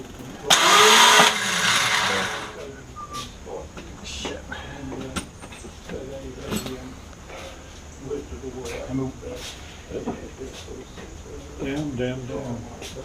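A Triumph Spitfire starter motor gives a loud, harsh whirring burst lasting just over a second, followed by quieter clunks and several people talking.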